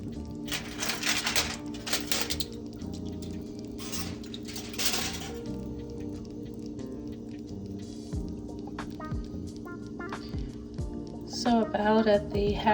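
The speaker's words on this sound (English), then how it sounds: "I'm just gonna cover this up with foil." Aluminum foil is pulled and crinkled over a baking dish of baked macaroni and cheese, with bursts of crackling rustle and light clinks close by.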